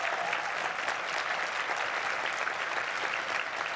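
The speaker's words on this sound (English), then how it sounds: "Give Annalita another round of applause." Steady, dense applause from a large audience at a breakfast event, filling the room evenly without pause and carrying on at an even level with no talk over it.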